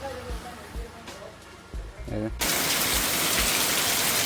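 Heavy rain pours in a backyard, a loud, dense hiss that surges in and holds steady after several low thumps and some talk at the start.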